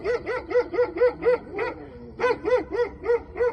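A dog barks in a rapid, rhythmic series of loud, close yaps, breaking off briefly before resuming at the same steady pace.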